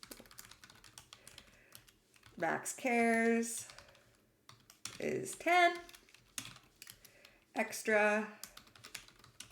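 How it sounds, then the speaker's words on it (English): Rapid clicking of typing on a computer keyboard runs steadily underneath, while someone speaks over it in three bursts. "The typing today leaves something to be desired."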